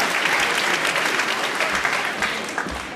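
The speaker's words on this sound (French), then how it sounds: "Vos applaudissements, s'il vous plaît, une dernière fois" Audience applauding at a graduation ceremony, a dense sustained burst of clapping from a large room that fades slightly near the end.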